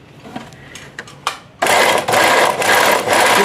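Sewing machine stitching piping cord and gum magzi onto fabric: a few faint clicks and handling taps, then a loud, rapid motor whirr starting abruptly and running steadily with brief slight dips to the end.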